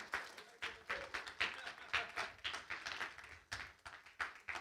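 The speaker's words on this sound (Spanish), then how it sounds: "Ahora sí, un fuerte aplauso a Nicole" An audience at a live evening worship service breaks into applause, with bursts of clapping rising and falling in waves, fairly faint and distant, mixed with some crowd noise.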